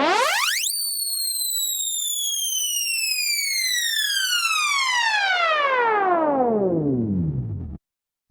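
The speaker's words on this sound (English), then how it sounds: "And so I use this sound effect. It's called Rise Zipper." Rise Zipper riser effect from FL Studio stock tools, a loud synthetic sweep that shoots upward, then glides in smooth layered tones steadily downward for several seconds before cutting off abruptly.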